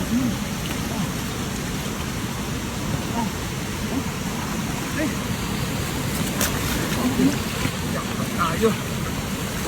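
Steady rain hisses and patters across the water around a fishing boat during net fishing, a dense constant wash with low rumble underneath, and a voice talks faintly at times.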